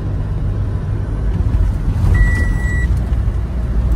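A car cruising along a mountain road in Himachal Pradesh, its engine and tyre rumble a steady low drone throughout, with a brief high beep or tone near the middle.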